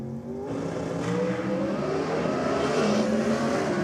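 A Pontiac GXP drag race car launches down the strip at an NSW championship drag meet, its engine note climbing steadily as it pulls hard and loud, with no voices over it.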